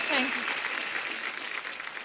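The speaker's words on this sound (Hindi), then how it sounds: "एक बार जोरदार तालियां कृति के लिए" Loud studio audience applause on a Hindi comedy talk show greets actress Kriti Sanon, a thick continuous roar of clapping with a brief musical or vocal swell near the start.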